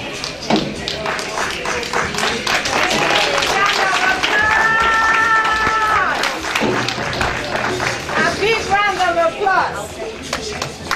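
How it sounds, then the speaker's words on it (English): Applause from an awards ceremony audience: scattered, modest clapping runs throughout, with a voice speaking over it and some tonal sounds rising in the middle. "The round of applause is kind of small."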